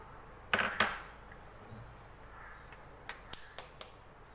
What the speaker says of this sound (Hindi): एक अंडा तोड़ेंगे, उसको डालेंगे पहले